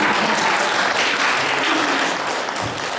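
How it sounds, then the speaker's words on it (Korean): A Korean church congregation applauds during a Sunday service in El Centro, dense steady clapping from many hands filling the room for a few seconds. "박수 한번 하세요."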